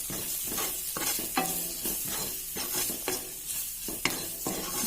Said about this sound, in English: Fry this for 1 minute.